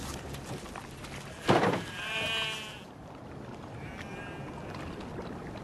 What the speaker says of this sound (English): Sheep or goat.